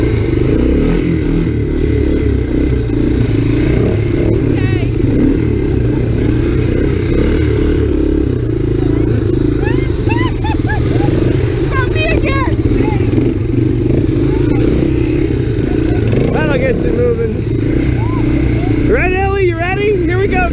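ATC three-wheeler engine running on a ride through snow during winter camping: a steady, loud motor drone throughout, with people talking and calling out over it.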